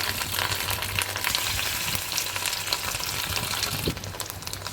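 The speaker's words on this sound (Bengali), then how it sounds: "এবার গরম তেলটা হয়ে গেছে গরম। এবার একে একে আমি বড়াগুলো দিয়ে দেবো।" Fish roe fritters bubble in hot oil in a kadai, a dense, even sizzling crackle that holds steady throughout with no voices.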